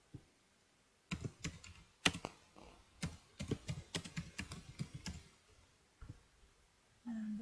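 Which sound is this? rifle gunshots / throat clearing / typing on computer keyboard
typing on computer keyboard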